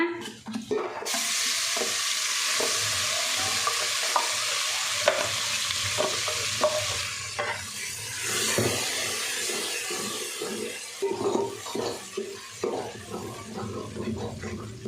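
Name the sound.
ground masala and curry leaves frying in hot oil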